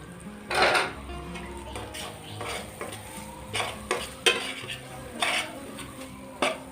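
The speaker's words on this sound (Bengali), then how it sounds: "আমি আবারও ভালো করে মশলাটা কষিয়ে নিব।" Spices are stirred and sautéed in a pot while cooking haleem. A spoon scrapes and clinks against the metal in irregular bursts over a low sizzle, with sharp close knocks spaced through the clip.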